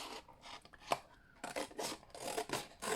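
Scissors roughly cut around a paper plate, with uneven rasping snips and scraping bursts close up and quiet pauses between cuts.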